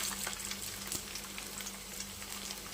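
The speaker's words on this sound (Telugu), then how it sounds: "ఇందాకలు వేపుకుంటున్నాం కదా, ఇలా వేగుతున్నాయి" Pieces of taro root (chamadumpa) shallow frying in a few spoons of oil give a steady, close sizzle with small crackles and pops throughout.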